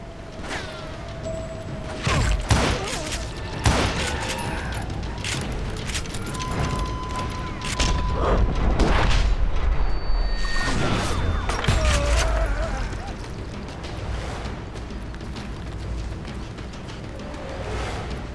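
Sporadic gunshots and booms in a Call of Juarez Gunslinger shootout, sharp cracks scattered across a steady rumble of game ambience with mechanical clicks, loud and fairly close, no talking.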